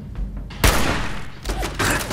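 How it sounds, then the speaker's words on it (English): Machine gun fire during a firefight in tunnels in Fallout 4, a loud close burst followed by a rattling volley and a second burst. "Machine gun that is right there."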